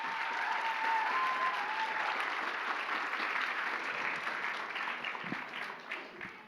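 Sustained applause from a convention audience cheering cosplay performers on stage, dense and steady clapping that holds throughout and tapers slightly near the end.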